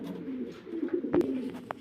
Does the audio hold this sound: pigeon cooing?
yes